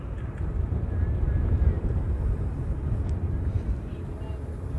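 A Delta airliner passes overhead near JFK, a low, broad rumbling drone that swells slightly and then eases, moderately loud and steady with wind buffeting the microphone.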